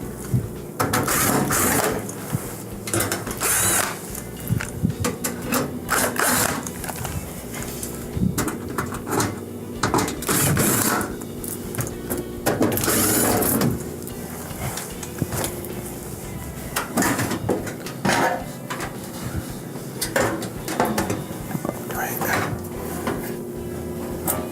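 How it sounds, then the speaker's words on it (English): A ratcheting tool backs out quarter-inch screws from the top panel of a Whirlpool electric oven, giving repeated rapid clicking bursts with short pauses and occasional handling clatter, close and fairly loud. "There's a couple 1/4-inch screws around it holding it in place."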